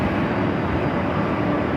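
Korean Air Airbus A380 arriving at Los Angeles airport, a steady broadband engine roar that holds at the same loud level throughout, with no voices.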